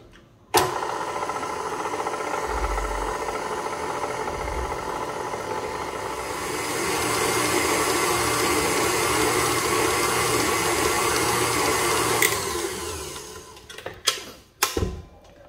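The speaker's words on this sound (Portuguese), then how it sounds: "É rapidinho, na batedeira, coisa de um minuto, ela já mistura." A stand mixer beats flour and margarine into a crumbly mix at low speed, a steady close motor whir running for about fourteen seconds before stopping with a few clunks.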